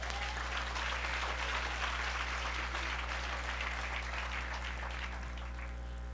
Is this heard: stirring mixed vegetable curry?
no